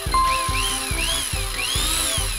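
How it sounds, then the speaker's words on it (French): A cartoon electric drill whirs in loud, repeated bursts, each spin-up sweeping upward in pitch and cutting off about every half second, with a steady rhythmic pulsing throughout. "Sammy, ce n'est pas un mixeur, c'est une perceuse."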